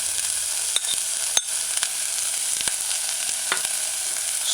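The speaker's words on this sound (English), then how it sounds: "add the diced scallion" Diced scallion sauteing in a hot pan for a vegan mushroom tomato stew, a steady broadband sizzle with a few soft clicks of stirring, no voices.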